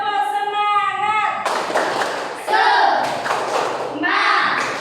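A classroom of children performing the 'tepuk semangat' clap, with loud, patterned bursts of clapping and thumps mixed with young voices shouting and chanting along.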